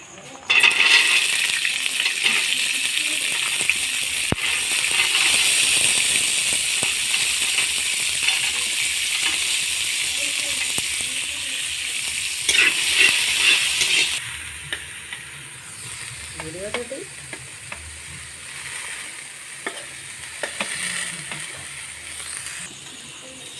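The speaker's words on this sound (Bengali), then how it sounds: "এক এক করে সব সবজিগুলো আমরা ভেজে নেব। কড়াতে তেল গরম করতে দিয়ে দিয়েছি।" Vegetables fry in hot oil in a kadai for an egg chow mein. A loud, dense sizzle carries on steadily for about fourteen seconds, then drops to a quieter crackle with occasional clinks.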